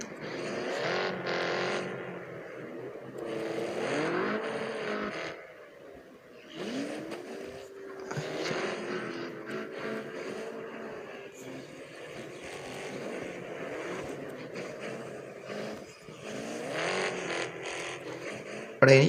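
Virtual car engine from the mobile game Car Parking Multiplayer, revving in repeated bursts whose pitch climbs and falls, fairly quiet and up close, with brief gaps between throttle pushes.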